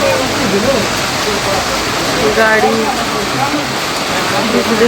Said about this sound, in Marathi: पाऊस खूप झाला आहे